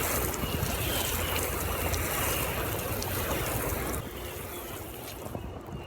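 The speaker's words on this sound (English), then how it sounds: "Time to water these green beans." Water pours steadily from a hose or can onto sprouted green beans in a garden bed, a close, broad continuous hiss and splatter that eases slightly in level partway through.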